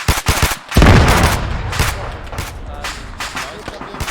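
Rapid machine-gun bursts and rifle shots crack in the Arma 3 military video game, loud and close with a heavy burst near the start, continuing in scattered volleys while voices talk over the firing.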